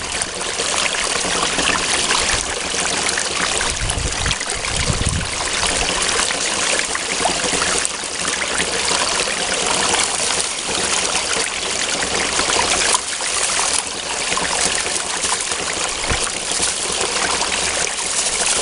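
A 2,000 gallon per hour water pump feeding a sluice box with silicone mats, giving a loud, steady rushing flow of water that holds throughout with no speech.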